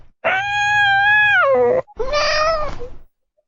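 Cat meowing inside a pet shop that holds a British Shorthair, a Ragdoll and a Korat: two loud, drawn-out, close meows, the first long and falling at its end, the second shorter, then quiet.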